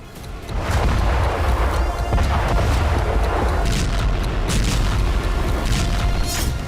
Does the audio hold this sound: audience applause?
no